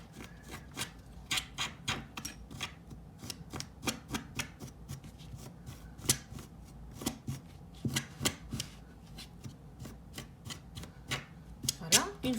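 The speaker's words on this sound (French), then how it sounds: "l'objectif est d'ouvrir donc les fils ici pour donner un joli rendu" Fabric threads on a coaster are pulled apart by hand to form a fringe, giving a quick series of crisp plucking and snapping ticks at an irregular rhythm, close and fairly quiet.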